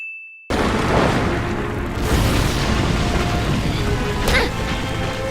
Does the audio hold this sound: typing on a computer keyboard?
no